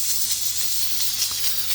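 Steam venting from a dial gauge pressure canner while chicken is canned, a steady close airy hiss that runs unbroken through the whole stretch with no voices.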